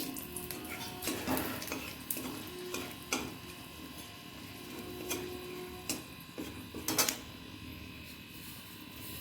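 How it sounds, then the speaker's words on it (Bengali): Bay leaf and dried red chili hitting hot oil for tempering, a faint sizzle with light clicks and stirring scrapes against the pan, quiet and close. "তেলটা গরম হয়ে গেছে, এখন ফোড়নের জন্য আমি তেজপাতা দিয়ে দিচ্ছি। শুকনো লঙ্কা দিয়ে দিচ্ছি।"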